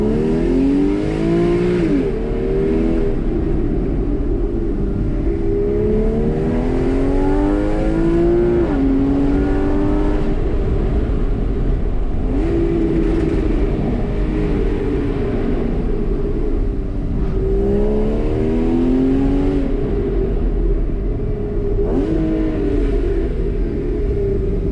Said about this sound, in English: So I'll show you a clip now of that car, of this car running with that exhaust.